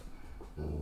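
A single dog gives a brief, close whimper that swells into a louder, tonal whine at the end, heard alone without talk.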